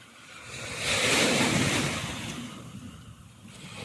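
Surf rolls in on Golden Beach in Miami, a broad wash of breaking waves that swells and fades, mixed with gusting wind buffeting the microphone.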